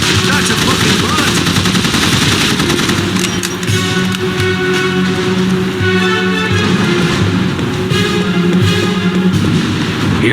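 Heavy gunfire in the game The Saboteur, a loud, dense, continuous rattle of rapid shots layered with engine-like rumble, with a voice briefly heard beneath it.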